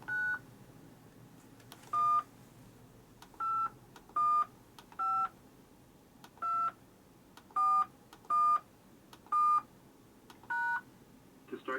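A telephone keypad entering a host PIN on a call-in radio line, giving about a dozen separate touch-tone beeps at an uneven pace over faint background hiss, each tone short and clear.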